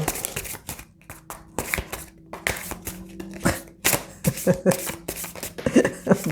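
A deck of playing cards is shuffled by hand in a series of quick riffling bursts and taps, close and crisp, with short pauses between the flurries.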